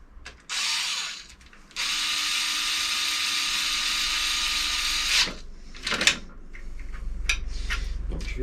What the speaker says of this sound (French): Tac, on la visse.